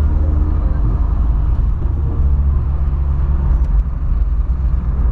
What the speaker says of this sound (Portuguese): Ó o Golfão rebaixado